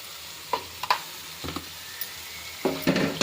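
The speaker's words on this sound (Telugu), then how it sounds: "బాగా కలుపుకొని ఇంకొక 2 minutes ఇలాగే ఫ్రై చేశాక రుబ్బుకుందాం" Tomatoes for chutney fry in a pan with a soft, steady sizzle, punctuated by scraping stirs at irregular intervals and a louder stirring burst near the end, no voices.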